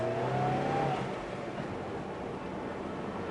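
Suzuki Swift climbing a hill under acceleration, a steady engine drone rising briefly in pitch at first, then settling into a continuous broad road and engine rumble heard from inside the car.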